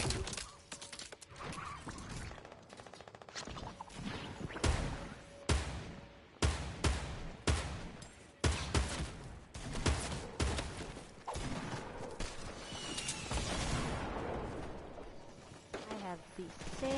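Gunfire in a video game: sharp repeated shot cracks and bursts, irregularly spaced, mixed under ongoing talk and game sound.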